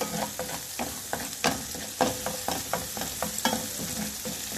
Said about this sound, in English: In the same skillet, add butter, add garlic,